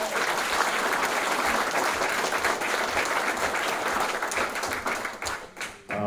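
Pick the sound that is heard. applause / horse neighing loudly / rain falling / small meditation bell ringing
applause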